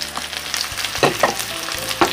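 Thinly sliced shallots and cut leeks sizzle loudly as they are stir-fried in a pan, a continuous crackling hiss punctuated by several distinct scraping and tapping stirs from a spatula.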